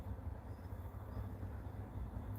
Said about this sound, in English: I'm just distracted by the noise of a train.